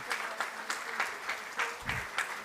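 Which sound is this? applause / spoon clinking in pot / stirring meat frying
applause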